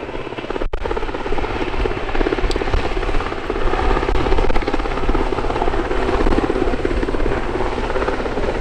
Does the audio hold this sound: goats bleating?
no